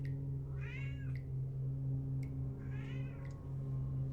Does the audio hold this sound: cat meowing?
yes